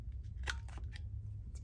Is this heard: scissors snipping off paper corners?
yes